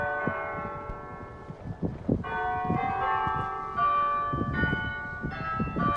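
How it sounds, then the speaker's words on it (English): Georgetown College church bells in Kentucky ring out in overlapping, resonant peals, a steady layered clangor with no voices. "This is Georgetown College ringing their bells."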